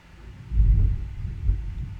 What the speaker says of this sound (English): You probably heard that thunder in the background.